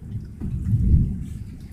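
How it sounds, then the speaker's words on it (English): Rain falls outside during a days-long downpour, heard as a low, steady rumbling wash that swells slightly in the middle, fairly loud and close with no voices. "you can probably tell it's raining"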